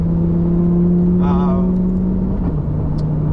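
Interior drone of a supercar engine cruising on a road drive, a steady low hum that holds then dips slightly, with a voice speaking briefly over it.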